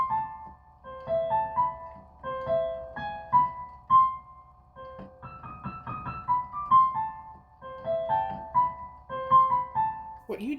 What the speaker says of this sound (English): What you just heard was basically all I knew how to play on the piano